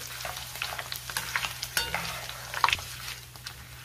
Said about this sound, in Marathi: थोडे थोडे मक्याचे पोहे टाकायचे आणि छान तळून घ्यायचे।